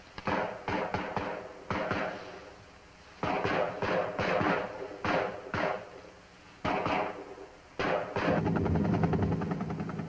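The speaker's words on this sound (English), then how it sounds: "Gunships launch and are directed to the area by the forward air controller." Military gunship helicopters launching, rendered as choppy bursts of rotor thumping and engine roar that cut in and out, with a sustained steady rotor rumble near the end.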